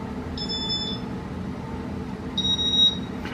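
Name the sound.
beeps from Casablanca Inteli-Touch fan control rising in pitch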